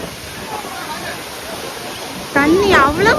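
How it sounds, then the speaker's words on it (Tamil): Steady broadband rush of the waterfall at Old Courtallam, moderately loud and continuous throughout, with a voice speaking over the falling water toward the end. "தண்ணி பரவாயில்லாமல் விழுது"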